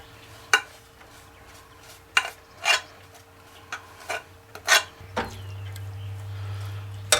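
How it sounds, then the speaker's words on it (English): Dry brown rice poured into a pan for a black bean casserole, giving scattered sharp rattling clatters at irregular intervals before a low steady hum takes over. "Now to the pan, we're going to add our rice."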